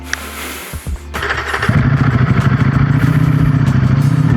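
A motorcycle engine starts up close by and settles into a loud, steady rumbling idle with a pulsing beat, alone without talk.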